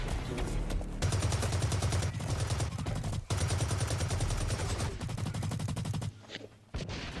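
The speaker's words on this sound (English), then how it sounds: "the gun sounds are really, really good" Video game guns fire in long sustained automatic bursts, loud and close, with rapid regular rattling broken by short pauses between volleys.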